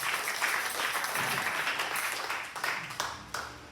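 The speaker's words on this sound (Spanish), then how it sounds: "Regálale un fuerte aplauso al Dios de la gloria" Applause from a church congregation during a sermon, dense clapping that swells then thins out with scattered claps, moderately quiet, with a voice heard faintly under it.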